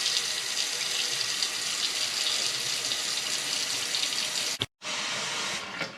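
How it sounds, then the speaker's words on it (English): Hot water runs steadily from a tap into a pot, a continuous close hiss and splash that cuts out briefly near the end before flowing again. "I'm gonna fill the pot with hot water so I can get it ready to boil."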